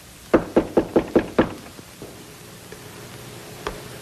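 Six sharp, evenly spaced knocks on a door ring out close and clear in a quick rhythm, followed by a couple of fainter taps and one last isolated knock in a quiet room.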